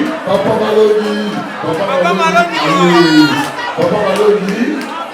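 Wedding guests at a celebration marking twenty years of marriage cheer and call out, a loud, lively crowd hubbub of shouting voices that swells and dips. Any clapping is lost beneath the chatter.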